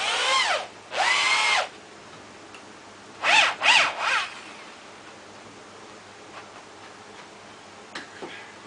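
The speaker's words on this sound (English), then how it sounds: "Now I just run my pistol drill down through the hole." A cordless pistol drill whirs in short bursts through a hole in a transfer case, two quick revving runs then three more, with quiet pauses and faint clicks between.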